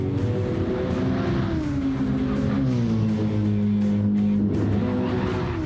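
A Haltech Mercedes race car in Gran Turismo 7 revs hard around Watkins Glen in loud, continuous engine tone that rises and falls through the gears, with tire squeal mixed in and no voices.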